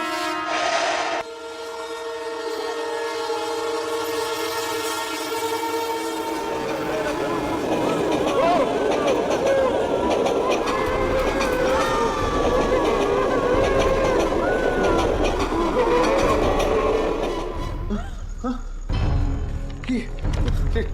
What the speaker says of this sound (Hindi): ये ट्रेन रुकी नहीं।